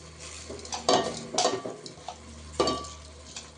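Soaked basmati rice is tipped into a pot for mushroom biryani, giving a few distinct clattering, rattling bursts over a low kitchen background with no talking.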